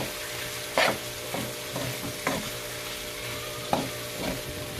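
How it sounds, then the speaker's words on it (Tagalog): Igado meat, a Filipino dish, sautéing in a pan with a steady sizzle, broken by a few louder scraping stirs at irregular intervals, close and with no voices. "Igisa natin maigi para hindi siya malangsa."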